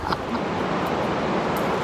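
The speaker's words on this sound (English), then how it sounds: "That sound you can hear is the rain." A heavy rainstorm in Berlin, heard from inside a hotel reception, gives a dense, continuous roar of falling rain that stays even and loud throughout, with no one speaking.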